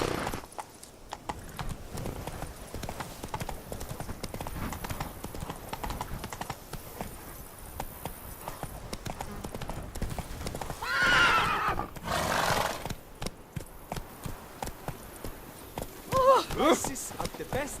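Steady clip-clop of horse hooves trotting throughout in The Witcher 3 video game, with a couple of loud whinnies toward the end and faint background chatter.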